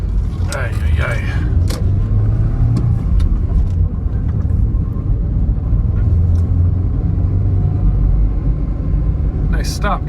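A car drives through the busy, hectic streets of Pedernales, Ecuador, its steady engine rumble and road noise running loud and continuous, with scattered clicks and traffic sounds and a person talking over it.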